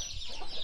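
Chicks hatched by a turkey hen peep softly on a free-range farm in the countryside, a continuous high chirping chorus close by with faint clucking underneath.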